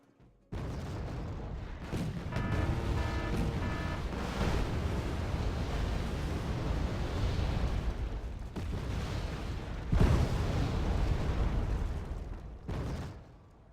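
Cluster artillery shells burst in a dense, sustained barrage of booming explosions and crackling impacts in the strategy game Wargame: Red Dragon, loud and continuous with a few sharper peaks, no voices.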